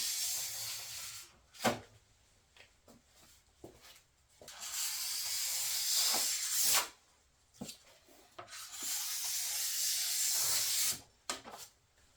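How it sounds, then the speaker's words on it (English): A plastic scraper with a notch drawn along ski edges to strip off excess wax, making long, harsh rasping strokes in several bursts separated by short pauses, close and fairly loud, with no talking. "This little notch is working great to get the wax off the edges"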